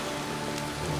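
Heavy rain from the film Noah pours down steadily, a dense, even hiss of drops hitting surfaces, loud and continuous with a low rumble beneath and no voices.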